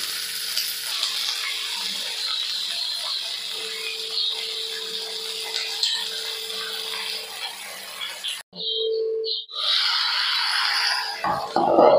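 Ivy gourd (kovakkai) dropped into hot oil in a heated pan, giving a steady, broad frying sizzle with stirring scrapes for about eight seconds, then a sudden drop to near silence broken by brief clatter and a renewed hiss.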